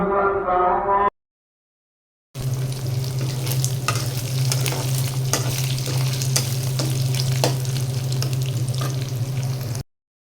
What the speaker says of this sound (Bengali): শুটকিটা ভেজে নেব